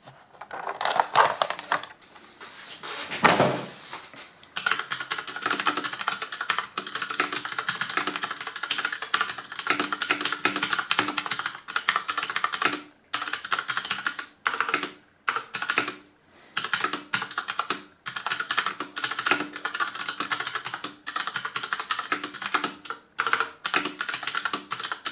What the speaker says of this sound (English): I will make you hear the sound of the keyboard when I press the keys and when I type on it